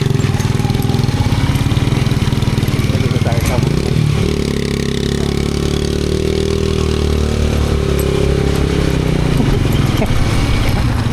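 A TMX 125 motorcycle engine drones steadily throughout while someone talks over it, the low rumble shifting slightly in pitch as the ride goes on.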